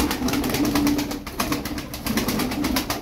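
Pigeon wings flap in a fast, regular rhythm, a continuous fluttering clatter close by with soft cooing running beneath it; white tumbler-type performing pigeons.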